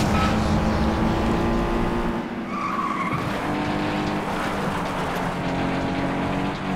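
Car in the racing game FlatOut 2 on a derby course, a continuous loud engine roar mixed with skidding tire noise, close and sustained throughout.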